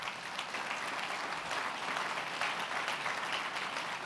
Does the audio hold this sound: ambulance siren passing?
no